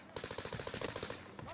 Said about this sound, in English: There's gunfire galore up here.